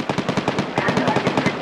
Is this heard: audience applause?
no